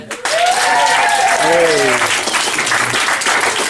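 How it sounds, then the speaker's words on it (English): Wedding guests applaud Adam at a best man's speech, a loud sustained burst of clapping with cheering voices rising over it, held steady for several seconds. "Round of applause for Adam."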